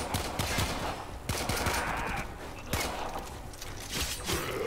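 A pistol in the sci-fi shooter Warframe fires a rapid string of sharp shots over a busy metallic, mechanical background, with the bursts coming in uneven clusters.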